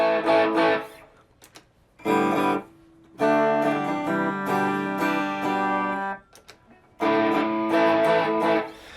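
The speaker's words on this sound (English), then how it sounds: "So you can change to distortion." Distorted electric guitar chords through an Enya Inspire distortion effect ring out in several bursts with gaps between, thick and saturated, played alone without talk.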